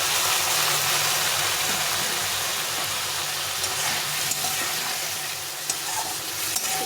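Spice paste and potatoes sautéing in a pan, a steady close sizzle of frying with occasional stirring scrapes and no speech.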